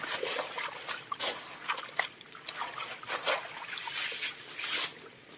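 Wild mushrooms being washed by hand in a forest stream, with uneven splashes and trickling water in bursts over a quiet outdoor background, close by.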